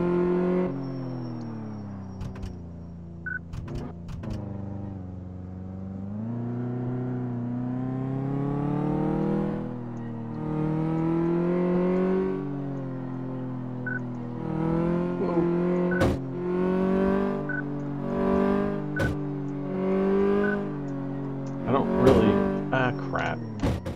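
A car accelerating in the driving game Car Mechanic Simulator 2014, its engine tone rising and falling steadily through gear changes, with a voice talking over it and a few knocks near the end.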